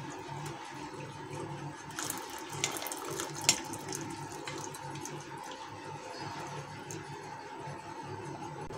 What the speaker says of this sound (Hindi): अब मैं इसके अंदर गन्ने का रस डालूंगी। मैं गन्ने के रस को फिर से छानूंगी।